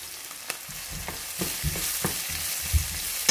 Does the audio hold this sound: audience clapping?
no